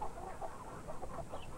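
Nearly full-grown young chickens on a farm cluck in short, soft, repeated calls, fairly close and unaccompanied by talk.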